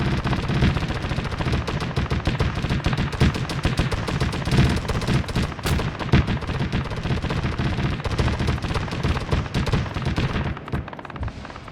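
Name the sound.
Cheetah vehicle firing suppressive fire in video game Arma 3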